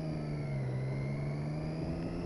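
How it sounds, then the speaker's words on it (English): A 2013 Triumph Street Triple R motorcycle engine drones at a steady, mid-pitched hum while riding, fairly faint and even, with no talking over it. "I'm going to do a lot of shitty gear changes because lugging a new engine is really, really bad."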